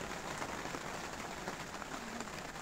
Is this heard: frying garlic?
no